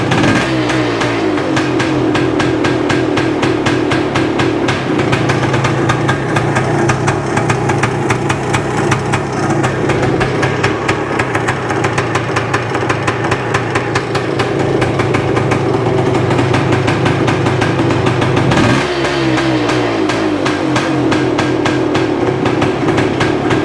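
A vintage 1978 Yamaha DT400E two-stroke motorcycle runs loud and close at a steady, rapid, buzzy idle for a long stretch, with a brief blip of revs late on before it settles back to a constant drone.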